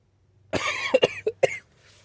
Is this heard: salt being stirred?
no